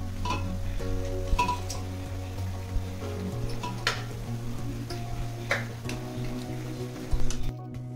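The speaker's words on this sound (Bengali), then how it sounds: "ডাল ঘুটনি দিয়ে এটাকে আমি ভালো করে ঘেটে নেব।" Cooked dal is mashed in a pressure cooker with a dal masher, producing soft, repeated scraping and tapping strokes against the pot at close range, fairly quiet over a low background hum.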